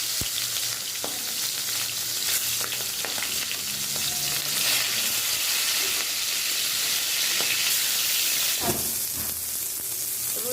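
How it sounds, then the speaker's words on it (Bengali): Rohu fish pieces fry in hot oil for a curry, a loud, continuous close sizzle with a few faint clicks and pan knocks throughout and no voices. "ঝোলের রুই মাছ ফ্রাই করে নিচ্ছি"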